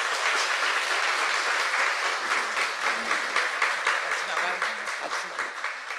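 A studio audience at a Korean talk show applauds in a steady, dense wash of clapping that holds for the whole stretch, with a voice faintly present underneath.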